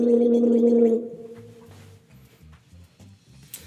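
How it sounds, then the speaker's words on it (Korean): A person vocalizes a sustained tone while holding water in the mouth, then breaks into bubbly, rhythmic gargling that pulses for a few seconds, close and fairly loud. "물을 살짝 머금어준 상태에서 턱을 위아래로 열고 토하는 이 조임을 만든 상태에서 소리를 내보려고 해보세요."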